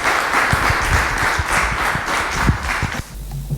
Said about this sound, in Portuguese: eu pedia-me novamente uma salva de palmas para terminarmos este painel